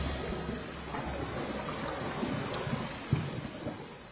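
Heavy rain in a night scene from the 2005 film Paheli, a steady dense wash of falling water with low rumbling and scattered drop impacts, continuous and moderately loud with no voices.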